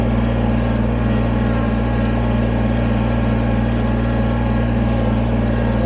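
Steady drone of a Kubota BX23S sub-compact tractor engine running in two-wheel drive on a street cruise, loud and close with an even low hum and no voices over it.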